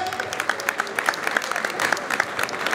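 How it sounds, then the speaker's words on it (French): Audience applause at a Baleng community evening in France, a dense, steady patter of many hands clapping across the hall, moderately loud with small swells, no talk over it. "Est-ce qu'on peut applaudir ici, s'il vous plaît?"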